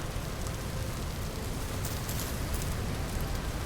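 Steady rain falls in a Vintage Story game world, a dense, even hiss with soft patter that runs unbroken for the whole stretch, with no voices.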